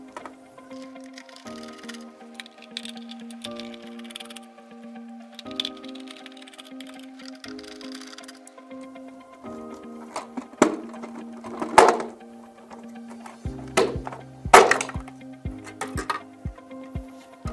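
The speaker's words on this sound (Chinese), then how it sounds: "我们这就把这四个螺丝拧下来" Four screws, two hex and two Phillips, come out of a tower fan's plastic casing, giving a steady low whine in stop-start stretches, then scattered sharp clicks and cracks as the screws come free.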